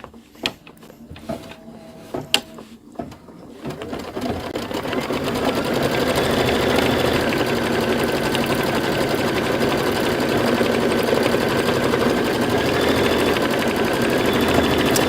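Embroidery sewing machine working on a Kimberbell design, a few sharp clicks and short bursts at first, then a fast continuous mechanical stitching chatter that holds steady and close.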